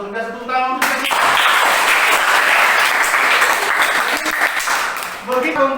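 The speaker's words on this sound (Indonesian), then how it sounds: "tepuk tangan untuk saya" A classroom full of students bursts into steady, loud applause during a maths lesson, clapping for about four seconds, with a teacher's voice heard briefly before and after.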